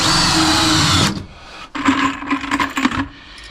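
A power drill drives a 3-inch screw into trailer wood, whining loudly and up close for about a second. After a short pause it makes a second, bumpier burst as the screw seats, then stops.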